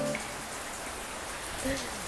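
Rain falls steadily on a construction site, with water overflowing, as a dense, even hiss that lasts the whole time, with faint bits of voice near the start and end.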